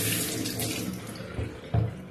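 Running tap water rinses disassembled Staresso Mirage coffee maker parts at a sink, a steady close splashing stream with a few brief louder clunks of parts under the flow, no talk.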